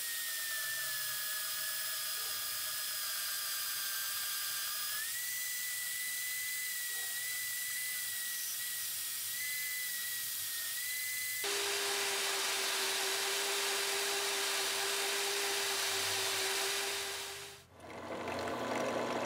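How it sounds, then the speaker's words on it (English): A drill bores holes through a metal guard for a full-tang 5160 steel bowie knife, a steady high-pitched whine that shifts pitch partway through and stops abruptly near the end. "Now we're going to go ahead and drill our holes through the guard."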